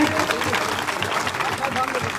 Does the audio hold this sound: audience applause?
yes